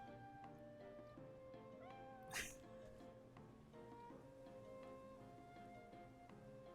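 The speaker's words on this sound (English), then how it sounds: "It will not stop meowing." A house cat meows repeatedly in a quiet room during a livestream of Octopath Traveler, the calls faint and mixed with soft game music and a brief louder burst partway through.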